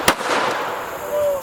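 A single sharp handgun shot at an outdoor shooting range, loud and brief at the very start, followed by a fading echo and low background noise.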